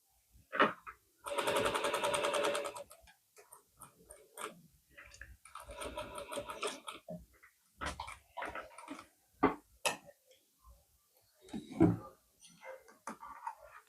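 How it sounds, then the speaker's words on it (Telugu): Sewing machine stitching a band-neck half collar on a lined suit, in several bursts of steady rapid needle chatter separated by pauses filled with handling noises and short clicks. "ఇది ముందుగల్లకి సీదా తీసుకోవడానికి ఇలా స్టిచ్చింగ్ చేసుకుంటున్నాను నేను."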